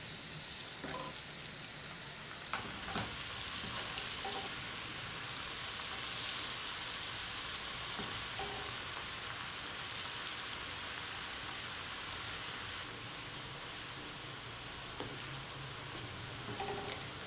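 Chicken cutlets sizzling in hot oil, a steady loud crackling hiss like heavy rain that carries on without pause, close by with occasional brighter pops.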